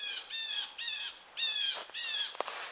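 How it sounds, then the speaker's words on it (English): Woodland birds give a run of four or five bright, repeated chirping calls close by, with short gaps between phrases and a few sharp clicks near the end. "Shut up, birds"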